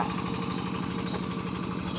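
A Yanmar farm tractor engine, about 13 to 14 years old, running steadily with a rapid, throbbing diesel knock that stays loud and close from start to finish, no voices over it.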